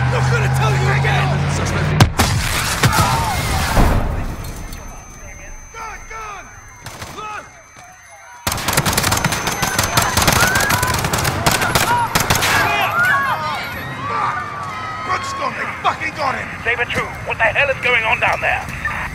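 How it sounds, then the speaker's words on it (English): Gunfire in Call of Duty: Modern Warfare, a loud spray of shots and bursts around a chaotic street scene, broken by a short lull and then resuming, with shouting voices mixed throughout. "Shots fired."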